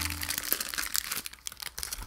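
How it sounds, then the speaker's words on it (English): A crinkly plastic wrapper on a Hostess snack cake is unwrapped close up, loud crackling and rustling in irregular bursts that rise and fall over about two seconds. "Maybe I should unwrap these next to the microphone."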